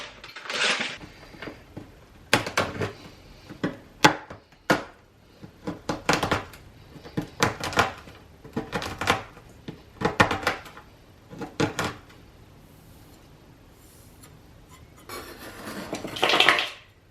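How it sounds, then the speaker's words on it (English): A knife chops a block of Whittaker's chocolate into rough cubes on a board, giving a series of sharp, uneven knocks and clatters with pauses between them, close and clear with no talk. "So I'm just going to roughly chop my block up into little random cubes"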